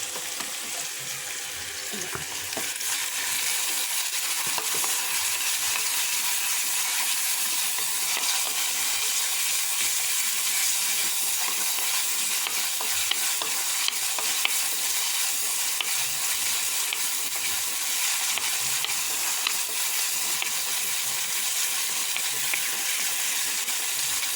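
Garlic, ginger and curry leaves fry in a pan with a steady, close sizzle that holds for the whole stretch, with no voices over it.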